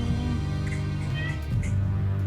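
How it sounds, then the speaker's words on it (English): A domestic cat meows indoors during a tabletop game session, its calls rising briefly over steady background music that fills the whole stretch. "Was that cat noise part of the music, or was that someone's cat? That was my cat."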